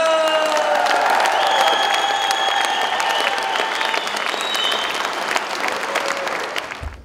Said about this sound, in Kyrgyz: Kejи Групп компаниясына бир кол чаап коюңуздар